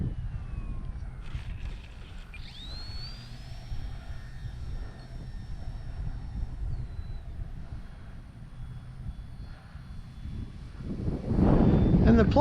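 A light, sturdily built Durafly Ugly Stick V2 electric RC plane flies overhead, its thin motor whine rising in pitch and then holding steady at a distance over outdoor wind rumble, growing louder near the end.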